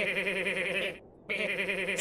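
Goat bleats from Goat Simulator, two long, loud, strained cries with a bright nasal waver, separated by a short silent gap near the middle of the clip.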